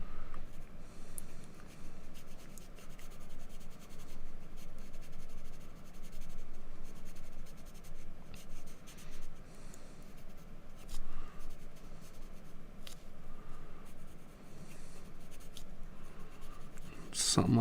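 B pencil drawing misty trees on paper, a soft continuous scratching and rubbing of graphite heard up close at a steady pace, with no voice over it.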